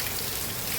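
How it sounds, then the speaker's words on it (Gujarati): Heavy monsoon rain pours down steadily in a village, a dense, loud, unbroken hiss of downpour filling the whole moment with no voices. "તમને બતાવું કે વરસાદ કેવો મુસળધાર ચાલુ થઈ ગયો"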